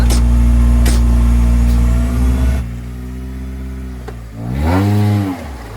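A Maruti Suzuki Gypsy 4x4 with differential lock engaged climbs an off-road slope, its engine droning loud and close, easing off briefly, then revving hard with rising and falling pitch as it pulls upward.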